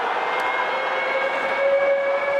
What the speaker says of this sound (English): Siren sounds for half-time.